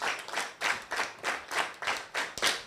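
Audience applause at a wellness workshop gathering, a steady burst of many hands clapping together in rhythmic surges, close and fairly loud with no talk over it.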